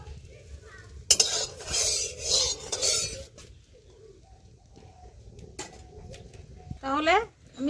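Fish being mixed by hand with salt and turmeric powder in a bowl, a few seconds of close, wet stirring and clinking, followed by quieter kitchen sounds while a bird coos in the background.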